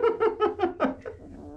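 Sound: Komondor puppy making a cat-like sound

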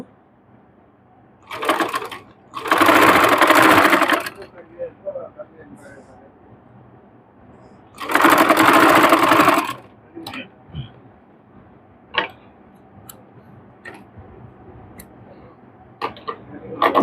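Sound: sewing machine stitching a garment neckline

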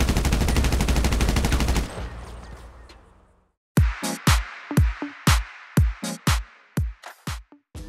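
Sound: special carbine rifle gunfire in a video game

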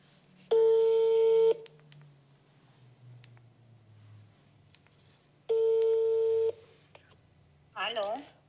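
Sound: telephone dialing and ringing tone

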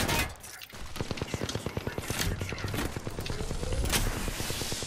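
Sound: gunfire in Apex Legends video game

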